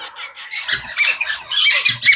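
A pet conure parrot gives a run of shrill, harsh squawks at close range with short gaps between the calls.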